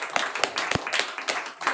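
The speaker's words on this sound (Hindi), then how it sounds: "उनके लिए भी ताली बजाओ जोर जोर से भाई के लिए" A small gathering claps at a family event, with individual hand claps plainly separate, close and loud, and an uneven rhythm from only a few people.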